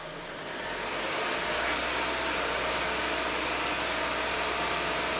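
An '03 Kia Rio with a speed sensor fault runs steadily after being shifted into gear, a low continuous engine hum that swells in the first second and then holds even and close.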